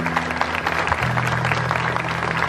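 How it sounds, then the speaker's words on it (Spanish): Applause for a priest at a church gathering in honour of Monsignor Romero, a dense, steady patter of clapping from a crowd filling the whole moment, with a low hum underneath. "el Padre Jaime Paredes, a quien felicitamos con este aplauso."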